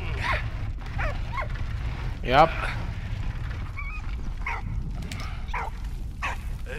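A dog barks in the video game Valiant Hearts, giving a few short, yelping barks over a steady low background, with brief talk in between.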